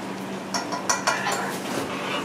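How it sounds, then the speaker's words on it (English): A lid is set back onto a pot of simmering Guyanese pumpkin talkari, making a few close metallic clinks and a short rattle over a low steady background. "So we're going to cover it back and leave it for it to simmer some more."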